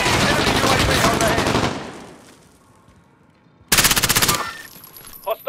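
Rapid automatic gunfire rattles in loud sustained bursts in a shooter video game, cutting off into a quieter lull before another sharp burst erupts, with a few isolated shots at the end.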